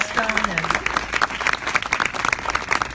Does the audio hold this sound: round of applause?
yes